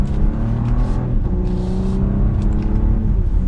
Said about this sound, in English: few pops in that exhaust